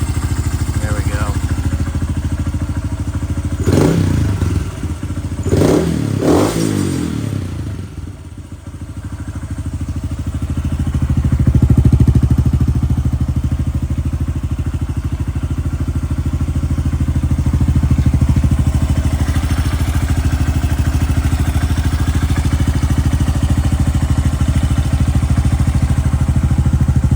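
A Honda Grom engine fitted in a 2019 Honda CRF110F idles a little high, a steady close mid-pitched engine drone with a few clattering knocks early on, while someone talks over it.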